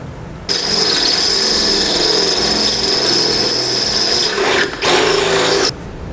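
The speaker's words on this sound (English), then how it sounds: "we don't risk damaging it while we're drilling out our frame rail" A loud power drill whines continuously as it bores into the metal frame rail of a 2015 Ford Fiesta, dipping briefly once before spinning back up and then cutting off.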